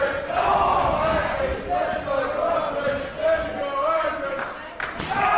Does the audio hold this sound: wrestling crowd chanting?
yes